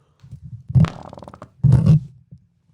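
Two bursts of flatulence, one short and one longer, close and fairly loud amid quiet room tone, with no one speaking.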